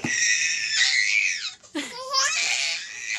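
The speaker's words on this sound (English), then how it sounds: "He screams a lot." An 8-month-old baby boy screaming, loud high-pitched shrieks close by, sustained and wavering with a brief break in the middle before another long squeal.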